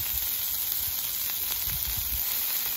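Oklahoma-style onion smashburgers fry on a Camp Chef flat top griddle, giving a constant, close hiss of sizzling fat with occasional soft pops and scrapes.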